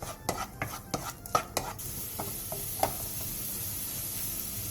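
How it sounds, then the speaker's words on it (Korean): Garlic stir-frying in oil in a pan over medium heat, a quick run of close spatula taps and scrapes against the pan, then a few sparser knocks over a soft steady sizzle. "팬에 기름을 두르고 마늘을 넣은 뒤 중불에서 마늘이 살짝 노릇해질 때까지"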